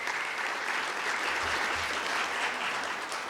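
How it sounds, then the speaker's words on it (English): Audience applause at a mayor's business and community awards address, a steady, even wash of clapping from a room full of people, sustained without a break for the full few seconds. "If we could all give him a little applause."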